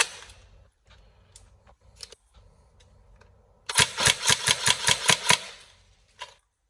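A Tokyo Marui MK18 NGRS airsoft electric rifle fires a rapid burst of about eight sharp, evenly spaced shots close by, after a few soft handling clicks and before one last click.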